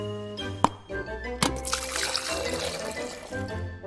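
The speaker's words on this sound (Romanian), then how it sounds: "Oh, o să beau un pahar cu apă!" Water poured into a drinking glass, a close, steady trickle and splash lasting a few seconds after a couple of light clinks.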